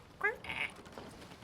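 A voice imitates a duck quacking, giving one short, nasal quack-like call followed by a brief higher squawk, close and fairly quiet.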